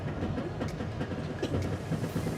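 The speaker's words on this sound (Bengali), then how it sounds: "এই হচ্ছে ট্রেন।" A passenger train with carriages joined by vestibules, heard from inside a coach: a steady, dense rumble of wheels on rails with a soft rattling texture, continuous and fairly loud, with no talking.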